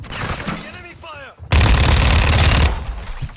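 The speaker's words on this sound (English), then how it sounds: "Enemy fire." Burst of enemy gunfire in a multiplayer shooter game, a loud dense volley lasting about a second, followed by brief game voice chatter and effects.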